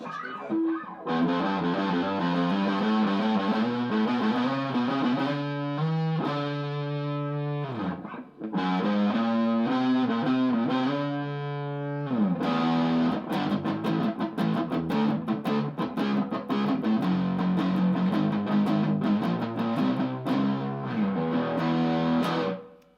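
Loud, heavily distorted electric guitar riffs through a NUX amplifier's metal mode with reverb, chugging chords and brief pauses, played continuously with a saturated, reverberant tone.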